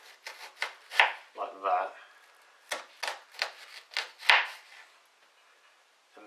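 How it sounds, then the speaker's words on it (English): A knife slices raw carrots into thin cuts that stop short of the end, giving a rhythmic series of crisp, close chops on a board, with a brief spoken remark partway through. "what I'm going to try and do is replicate what the person did, which is do little slices, not quite to the end"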